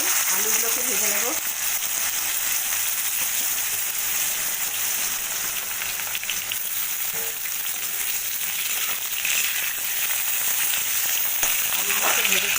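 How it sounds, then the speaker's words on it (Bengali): Potatoes frying in hot oil in a pan, a steady broad sizzle that runs continuously throughout, with a voice speaking briefly at the start and again near the end. "এবার এই তেলে আলুগুলোকে ভেজে নেব।"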